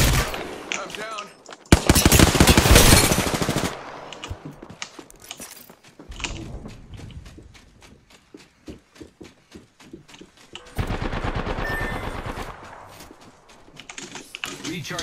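In the video game Apex Legends, bursts of rapid automatic gunfire come in waves, loud, then fading, then returning, with game voice lines and footstep-like clatter between them.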